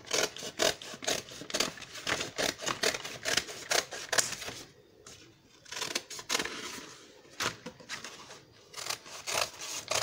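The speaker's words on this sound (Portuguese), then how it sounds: "Cortar o molde." Scissors snipping through a folded paper pattern for a standing pet costume, a quick run of close, crisp cuts and rustling paper, then a short lull before more cuts.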